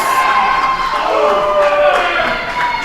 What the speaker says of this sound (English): The crowd is firmly behind Clayton Clark and Johnny Poke so far.